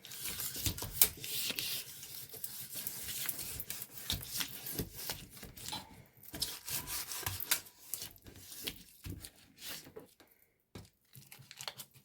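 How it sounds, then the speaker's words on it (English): A small pie tin being lightly greased, giving faint, irregular rubbing and scraping strokes close by, with short pauses between them and no talking. "And you just grease that lightly."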